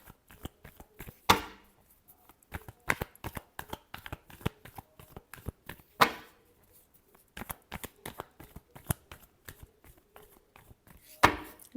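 Tarot cards are shuffled by hand in quick riffling flurries, with repeated crisp flicks and several louder riffle bursts spread throughout, fairly close and quiet, with no voices.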